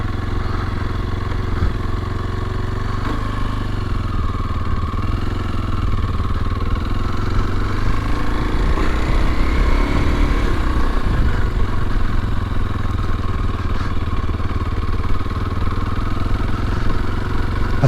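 A 2022 Kawasaki KLX230SE dual sport motorcycle engine runs steadily and loudly up close, holding a mid-pitched idle with a slight rise in revs around the middle, with no talking.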